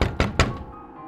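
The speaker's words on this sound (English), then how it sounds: "there is a knock on the door" Three heavy, hollow thunks rap in quick succession on the wooden door of a farmer's cottage beside a forest road at night, close and solid, each blow ringing briefly before fading into quiet.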